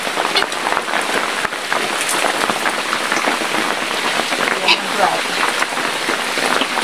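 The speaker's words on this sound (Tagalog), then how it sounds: "Malakas na yung ulan." Heavy rain pours down near a piglet pen, a dense steady patter of drops with occasional sharper hits throughout.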